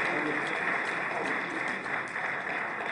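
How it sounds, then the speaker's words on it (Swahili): Sustained audience applause for the presidents at a ceremony opening the Mwalimu Nyerere Foundation building, a steady, even wash of many hands clapping throughout with no break. "Kwa heshima kubwa naomba tupige makofi mengi sana kwa heshimiwa marais wetu"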